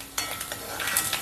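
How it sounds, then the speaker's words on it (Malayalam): Grated coconut fries in a pan for Onam ulli theeyal, a steady crackling sizzle punctuated by quick scraping strokes of a spoon stirring it, close and alone. "ഈ വറുക്കുന്നത് തേങ്ങായ"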